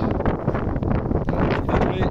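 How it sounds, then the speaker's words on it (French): Wind rising and buffeting the microphone outdoors at a work site, a loud continuous rumbling roar with gusty swells throughout. "Le vent se lève."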